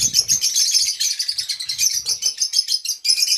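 Pet lovebirds and cockatiels chirp rapidly and loudly at a bird shop, a constant bright twittering with a few faint low sounds underneath.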